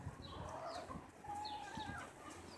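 Backyard chickens cluck softly and intermittently at a distance, with a few short calls over faint outdoor background noise.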